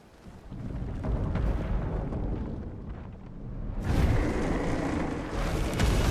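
Cannon fire in the game Clair Obscur: Expedition 33 at a boat-lined spot. Deep booming rumbles build and swell over several seconds, with a louder, broader blast midway, heavy and sustained, with no voices.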